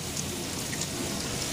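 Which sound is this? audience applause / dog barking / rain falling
rain falling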